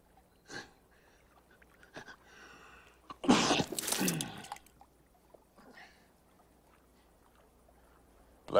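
A single loud, close sneeze bursts out in a relaxed podcast conversation, lasting about a second, with a few faint voice sounds before and after in an otherwise quiet room.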